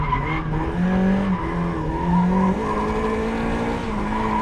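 Tires of a Mazda MX-5 Miata squeal and skid while drifting on a winter practice day, with wavering pitched screeches over the engine, loud and continuous without talk.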